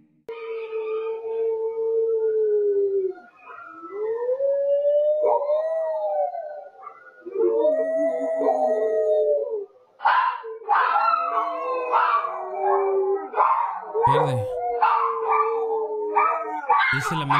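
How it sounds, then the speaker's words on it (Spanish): A dog howling at about 2 a.m. in Pachuca, Mexico, picked up on a security camera: long, wavering howls repeat for several seconds, then give way to overlapping yips and higher calls that sound like more than one dog. "podría decirse que se trata del aullido de un perro"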